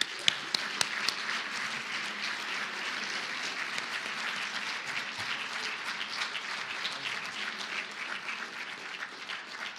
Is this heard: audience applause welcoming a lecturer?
yes